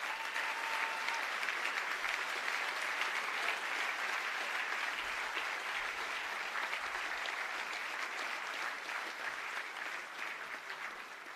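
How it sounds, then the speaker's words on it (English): Steady audience applause at a university bachelor and master graduation ceremony, a continuous wash of many hands clapping heard from some distance, holding evenly for about eleven seconds and easing slightly at the close, with no voices. "I think they also deserve a little applause for that."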